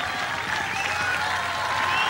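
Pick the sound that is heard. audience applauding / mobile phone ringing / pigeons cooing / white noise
audience applauding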